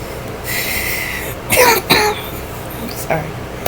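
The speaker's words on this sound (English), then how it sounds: "Sorry, I still have a little bit of a cough" A person coughs and clears their throat a couple of times in short bursts, close to the microphone, with quiet room noise between the coughs.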